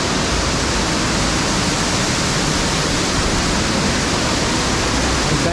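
A continuous, loud rush of water spraying in the wind outdoors in San Francisco's SoMa district, like gusty spray blowing close by, with no pauses.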